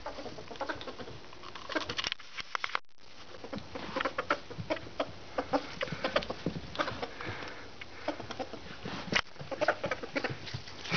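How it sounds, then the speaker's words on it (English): Rapid, irregular soft chirps and clucking patters from a ferret, scattered throughout with scuffling movement, fairly close, no talking. "I've never heard a ferret chirp as much as he does"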